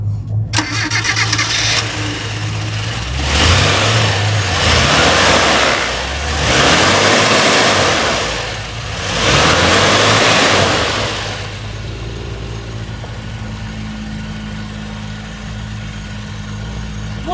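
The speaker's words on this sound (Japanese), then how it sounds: "エンジン音ってちょっと聞かせていただいていいでしょうか。" A 1979 Mitsubishi Galant Σ 2000 Super SL with a stock engine is started and then blipped three times in slow, swelling revs before settling back to a steady idle, loud and close, with no one talking.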